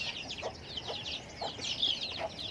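A two-month-old hen clucks noisily in a run of quick, fairly close calls, repeating in short bursts over a soft farmyard background with no talk.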